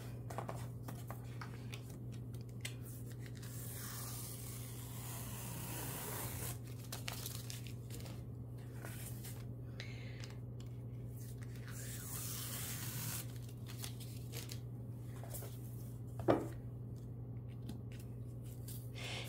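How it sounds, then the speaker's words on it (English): Painter's tape peels away from a painting in scattered soft tearing strips over a low steady hum, close and faint, with one sharper tick near the end. "as I'm ripping these edge pieces, I'm ripping it away from my painting."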